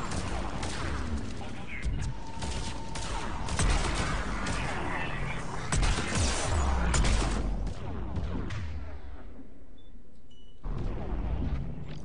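Dense, continuous gunfire and booming combat effects from the Mass Effect 3 video game fill the whole stretch, with overlapping shots, a brief lull near the end and then more fire.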